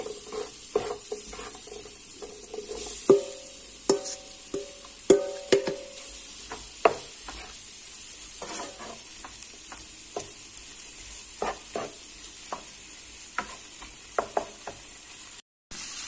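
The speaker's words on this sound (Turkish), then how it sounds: "Tavuklarımızı da koyup karıştırıyoruz arkadaşlar." Chicken sizzles quietly in a pan while a utensil repeatedly scrapes and clacks against it, irregular stirring strokes close by, no talking.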